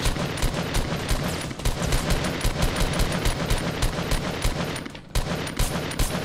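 Rapid sustained automatic gunfire in Fortnite, loud, dense bursts of shots continuing almost without pause, briefly breaking off once before resuming.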